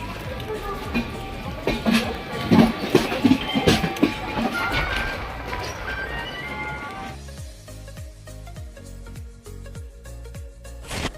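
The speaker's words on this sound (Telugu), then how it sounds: "కరెక్ట్ గా 6:17 కి అయితే ట్రైన్ అయితే తీసేసాడు" A passenger train leaves Vijayawada and runs on the rails in rain, a rumbling roll of car noise and clattering wheels with voices over it, then a clear rhythmic clickety-clack of wheels on rail joints.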